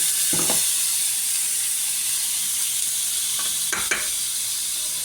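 Tomato puree sizzling in hot oil for a Mughal egg curry, a constant close hiss with a couple of short stirring scrapes.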